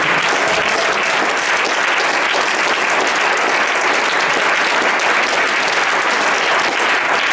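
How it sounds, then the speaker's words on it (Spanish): A congregation at a Spanish-language church sermon gives strong, continuous applause, a thick wash of many hands clapping at an even loudness throughout. "Fuerte el aplauso"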